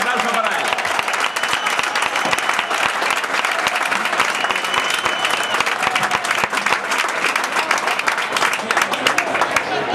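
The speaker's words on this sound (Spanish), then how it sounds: "Un aplauso para él." A crowd applauds steadily and loudly at the opening proclamation of the patronal festival of Nuestra Señora de Butarque in Leganés, dense clapping sustained throughout.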